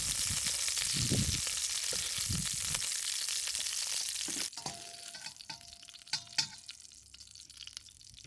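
Shrimp frying in a wok: a loud, steady sizzle fills the first half, then drops to a quieter hiss with a few scattered clinks and scrapes.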